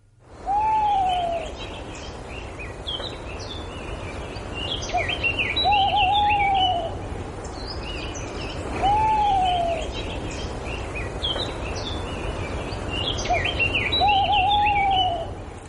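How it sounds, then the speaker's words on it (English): A wild Tawny Owl at Castle Ward calls repeatedly, its hoots rising and falling at a steady interval amid a busy chorus of other birdsong, fairly distant against soft background hiss. "The sound of the Tawny Owl."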